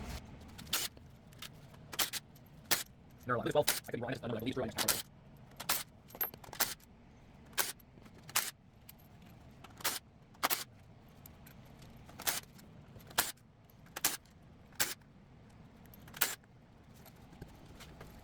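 A 10 mm wrench loosening front engine cover bolts on a 6.0 Power Stroke diesel during a teardown, heard as sharp, isolated metallic clicks and clinks spaced a second or so apart, with a short rattling burst early on.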